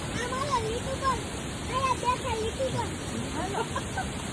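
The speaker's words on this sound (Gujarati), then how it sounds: "નીચે પાણીનો અવાજ એકદમ." Water flowing far below a foggy viewpoint in Dang, a constant rushing wash with birds calling over it.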